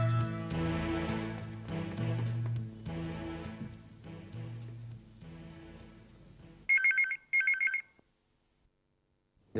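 Two short bursts of an electronic telephone ring sound clearly after several seconds of music, then silence follows.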